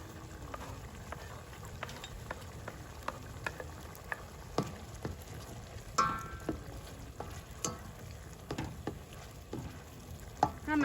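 Peppers sizzle in a hot pan during home cooking, a soft continuous frying hiss broken by light stirring scrapes and small pops, fairly quiet and close, with no talking.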